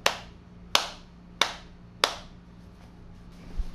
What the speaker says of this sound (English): You can mark it, clap.